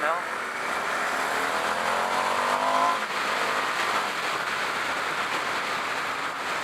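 An Indian Motorcycle FTR 1200 ridden on the road, its engine droning and rising through a gear with steady wind rush, heard close from the rider's position with a voice talking over it.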